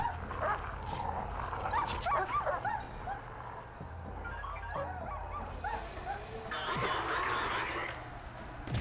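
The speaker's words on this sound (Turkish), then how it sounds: "Biri de köpeğe saldırıyorlar." In the Prison Architect video game, a guard dog under attack by prisoners yips, barks and whimpers in rapid bursts, mixed with scuffling game noise and a faint voice.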